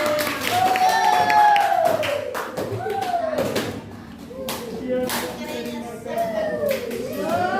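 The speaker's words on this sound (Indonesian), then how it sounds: "Tepuk tangan untuk kelompoknya." Students in a classroom clap for a group after its presentation, rhythmic chanted clapping in sharp bursts, mixed with voices singing along at moderate volume.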